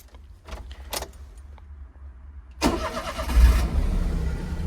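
A few clicks and jingles of keys, then a car engine cranks and fires up, settling into a loud, steady idle close by.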